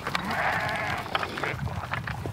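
A sheep bleats loudly and close by in a long wavering cry, followed by shorter rough calls over a constant low rumble.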